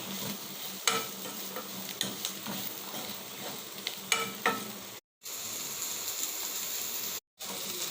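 Beans fry in a pan with turmeric, hissing and sizzling steadily at low level while a spoon stirs with soft scrapes and clicks, broken by two brief silent gaps.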